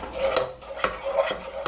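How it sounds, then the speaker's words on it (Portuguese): Chicken frying in a pan for a sandwich-loaf recipe is stirred with a spoon, a soft steady sizzle with several sharp clinks and scrapes against the pan, and no voices. "E vai mexendo até ele fritar."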